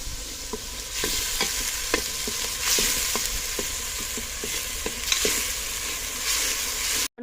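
Onions fry in hot tempering oil over a wood-fired stove with a steady crackling sizzle, punctuated by regular scraping stirs of a spatula, close by; cuts off abruptly at the end.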